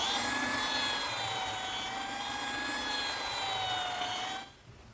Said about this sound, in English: to smooth up the saw cuts from the jigsaw, I'm just using my small belt sander.